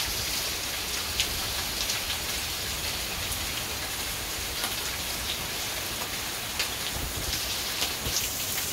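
Steady rain falling during a summer storm outside a porch, a dense even hiss with scattered louder drops and no voices.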